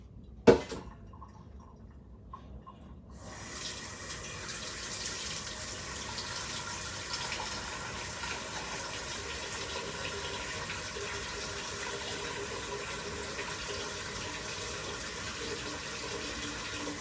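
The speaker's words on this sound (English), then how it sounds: "Always get a pot and put some water in here so you can put it to boil." Tap water runs steadily into a cooking pot at a kitchen sink, a short clatter and handling first, then a continuous even gush of filling lasting well over ten seconds.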